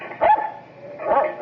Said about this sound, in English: There's a dog on your lawn.